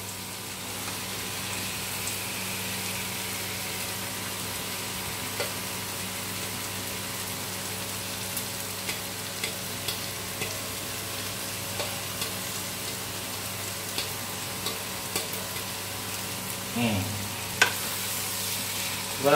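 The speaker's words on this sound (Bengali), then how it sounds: "টমেটোটা দেওয়ার পর তারপর আমি এই চিকেনটা ঢেলে দিলাম।" Chicken fries and gets stirred in a pan with tomato, onion and whole spices, giving a steady broadband sizzle with occasional soft scrapes and clinks near the end, close and continuous with no voices.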